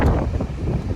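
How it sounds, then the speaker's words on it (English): Strong wind buffets the microphone on a ferry dock, a loud, steady low roar with gusty swells and no other clear sounds. "It's windy as all get out."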